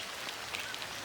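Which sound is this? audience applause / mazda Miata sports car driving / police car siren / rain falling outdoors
rain falling outdoors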